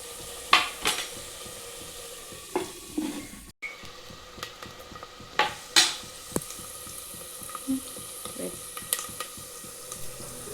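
Green chillies and onions frying in a pan give a soft sizzle, and a utensil stirs them with scattered scrapes and clinks against the metal.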